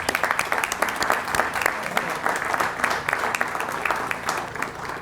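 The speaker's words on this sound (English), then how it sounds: "so I would like us all to give them a round of applause." Audience applause at a sheriff's station ribbon-cutting ceremony, with many hands clapping in a steady, fairly loud burst that continues through the moment without talk.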